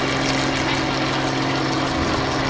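Light propeller aircraft with an engine of nearly 300 horsepower, a dense, steady buzzing drone that runs loud and unbroken without speech.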